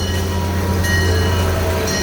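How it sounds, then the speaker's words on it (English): Twisted Cyclone roller coaster train at Six Flags rolling past nearby, a steady loud rumble with a low mechanical drone and faint rattling throughout, no talking. "say hi to the train."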